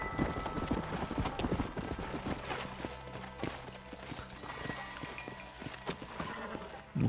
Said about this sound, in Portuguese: O cavalo não pode correr muito